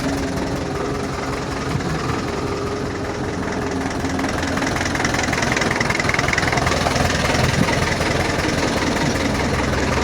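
A tractor engine idles steadily and loudly close by for the whole stretch, a continuous low rumble with a faint knocking vibration and no talk over it.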